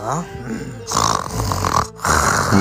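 A person asleep on a train snores loudly and close in three rough, rasping breaths with a short gap between them, deep and nasal.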